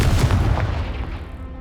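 A Confringo explosion spell in the Hogwarts Legacy video game lands as a single loud booming blast that rumbles briefly and fades out over about a second and a half.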